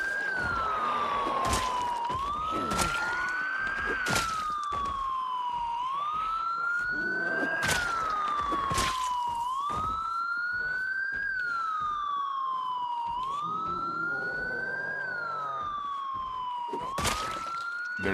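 A loud siren blares in the Project Zomboid video game, rising and falling in a steady repeating wail of about two-second cycles, with sharp thuds and clatters cutting through it.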